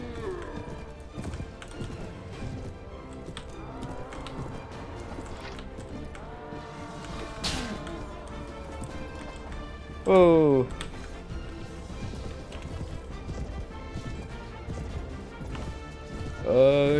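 Cavalry horses galloping in the Mount and Blade video game, hoofbeats running under constant talk, with bursts of louder clashing and neighing.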